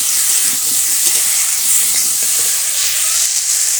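Masala with ginger, cumin and chili sautés loudly in a pan for a katla fish and potato curry, a dense, unbroken sizzling hiss close by with faint stirring, no voices.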